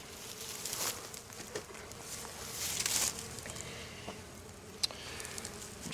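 Honey bees buzz around the hive during pollen patty feeding, a faint steady drone with rising and fading passes of individual bees close by, plus light tapping and rustling.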